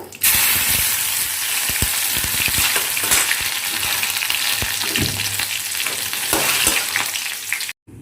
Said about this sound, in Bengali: তেজপাতা শুকনো লঙ্কা মৌরি ফোড়ন দিলাম